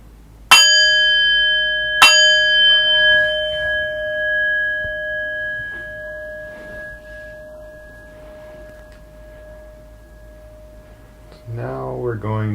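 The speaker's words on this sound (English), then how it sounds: "I'll ring the bell twice to begin." A meditation bell is struck twice, each strike ringing out clear and sustained, the second tone decaying slowly over many seconds while a calm voice talks softly beneath it.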